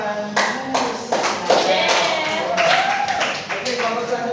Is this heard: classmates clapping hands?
yes